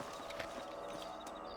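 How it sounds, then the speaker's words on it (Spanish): Horse hooves in Red Dead Redemption on PS5, a steady clip-clop of a horse moving along, fairly faint and continuous under soft game ambience. "Súbete al caballo."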